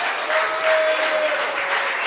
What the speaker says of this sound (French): Donc, il faut encore l'applaudir.